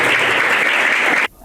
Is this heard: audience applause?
yes